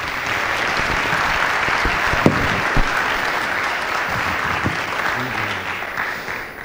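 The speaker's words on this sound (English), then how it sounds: "Give her a little round of applause," Audience applause at a formal high school assembly, a steady round of clapping from a large crowd with a few louder individual claps, continuing evenly before easing slightly at the close.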